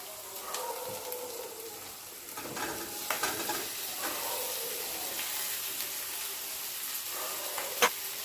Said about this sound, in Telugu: ఉల్లిపాయలు వేగినాయి ఇప్పుడు బెండకాయ ముక్కలు వేసుకుందాం